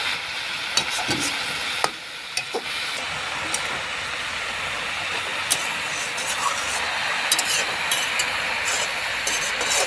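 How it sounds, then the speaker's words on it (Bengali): Red amaranth greens frying in a pan with lentil dumplings, stirred with scraping, clattering strokes over a steady sizzle and hiss; the scrapes and knocks come at irregular intervals, close by, with no voices. "শাকটাকে এখন নেড়ে চেড়ে দিব।"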